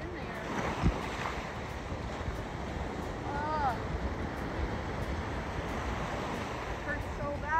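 Ocean waves at Seacrest Beach, a continuous broad wash of surf mixed with gusty wind buffeting the microphone, with brief voices talking nearby.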